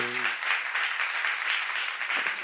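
Church congregation applause, a dense steady round of clapping heard alone after a brief vocal tone at the very start.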